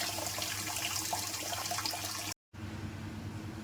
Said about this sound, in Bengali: ডালের মধ্যে জল দিয়ে দিচ্ছি, একটু সিদ্ধ করে নেব